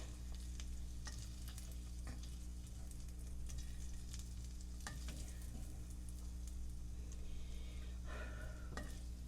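Seasoning being stirred into a sizzling skillet while making Cajun salmon pasta, a steady close frying hiss with scraping, clinking utensil strokes scattered throughout and no talking.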